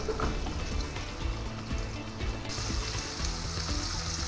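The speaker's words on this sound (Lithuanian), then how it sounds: "Dabar įsikepsim mūsų kotletukus." Meatballs dredged in flour and starch fry in a pan with a steady, dense sizzle and crackle of hot oil that runs throughout at moderate loudness, with a brief brighter hiss flaring partway through.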